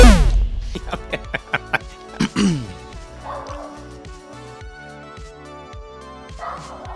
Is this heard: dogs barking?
yes